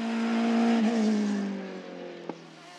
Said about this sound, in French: Enzo Chiocci poursuit sur sa lancée et place son prototype pyrénéen à la 3e place du CN2.